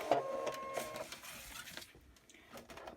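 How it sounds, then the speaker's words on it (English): Brother ScanNcut cutting machine unloading its cutting mat, a short burst of motorized whirring and mechanical clicks that fades to quiet after about two seconds, close and fairly soft. "I'm going to unload the mat."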